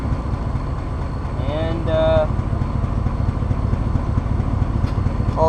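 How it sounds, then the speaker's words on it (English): A truck with an exhaust leak idles at a drift event, giving a steady, close, low rumble that runs the whole time. Someone talks over the engine. "The truck, well, got an exhaust leak"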